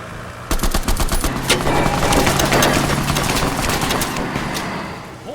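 Rapid gunfire in the Fallout mod TTW: The Frontier, a dense burst of automatic shots starting abruptly and continuing loud and close for several seconds before thinning out.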